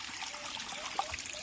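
Water trickles and dribbles from a village water source near the mountains in a rural province, a soft steady flow with a small splash near the end, no talking.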